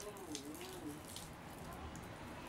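Water runs from a hose while a garden is watered, a soft, continuous splashing flow heard at low level alongside faint background sounds.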